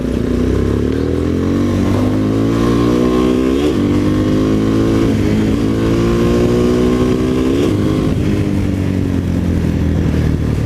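A Bajaj Dominator 250 motorcycle engine revs hard several times in a row, each pull rising in pitch, then dropping back between rises, loud and close with a rough, continuous mechanical roar.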